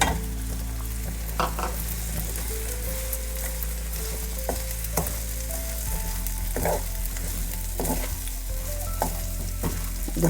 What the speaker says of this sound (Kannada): ಇವಾಗ ಬ್ಯಾಂಬಿನ ಹಾಕಿಬಿಟ್ಟು ಸ್ವಲ್ಪ ಫ್ರೈ ಮಾಡ್ತೀನಿ.